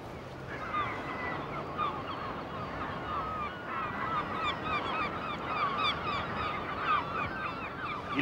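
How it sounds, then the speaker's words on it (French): Herring gulls call repeatedly from the sea cliffs of Brittany, a chorus of overlapping squawks and cries at moderate distance over steady wind and surf noise. "Il y a des goélands argentés, ce sont les plus nombreux."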